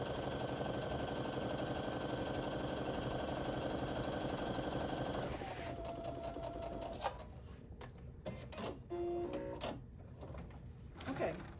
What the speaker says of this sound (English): now I'm going to sew on the other